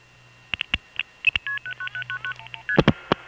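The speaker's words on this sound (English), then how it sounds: "When a crossbar tandem cuts through, it typically makes this sound." A crossbar tandem telephone switch cutting through on a long-distance line: a series of clicks and short electronic tones, then a rapid run of stepped beeps followed by a few sharper clicks near the end.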